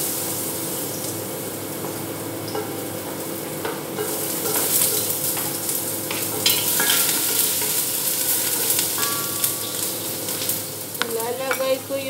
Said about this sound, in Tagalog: Igigisa ko na itong sangkap.